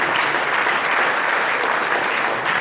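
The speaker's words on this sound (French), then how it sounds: "Applaudissez, applaudissez, applaudissez," Dense, steady audience applause fills a church anniversary gala hall, a continuous wash of many hands clapping at full loudness with no speech on top.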